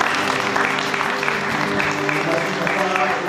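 Congregation clapping in a church service, a steady burst of applause with voices and music mixed underneath.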